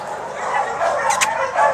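A dog gives short yipping barks and whimpery bow-wows at close range, a few quick bursts over under two seconds, with a person's voice audible around them.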